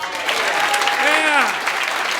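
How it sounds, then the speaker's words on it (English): A comedy club audience applauds the wait staff, a loud, close wall of clapping with cheers and whoops rising over it in the middle. "most important round of applause for the night, though. Keep it going for our wait staff, please."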